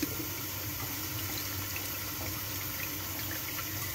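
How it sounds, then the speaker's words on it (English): Steady pouring of juice into a slow cooker, a continuous splashing rush that runs evenly for several seconds without pause, close by. "pour some juice in there."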